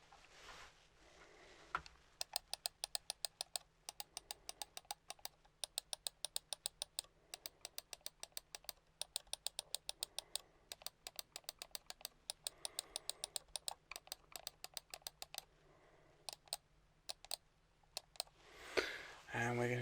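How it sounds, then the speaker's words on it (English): A computer mouse clicks repeatedly in a quiet room during a soft-spoken ASMR cranial nerve exam, with sharp close clicks in quick irregular bursts for most of the stretch. "Just going to click this mouse."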